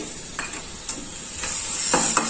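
Whisked yogurt is added to masala frying in oil, a steady sizzle with a few light spoon scrapes and stirring knocks; no one speaks.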